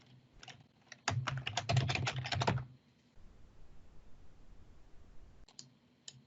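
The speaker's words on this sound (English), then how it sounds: "I'm typing my password and not doing that very well either" Rapid keystrokes on a computer keyboard as a password is entered, a dense burst of clicking in the middle followed by a quieter pause and a few scattered taps, close and fairly loud.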